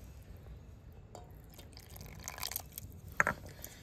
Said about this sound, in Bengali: এবারে আমি 3 থেকে 4 চামচ দিয়ে দেব কুসুম গরম জল।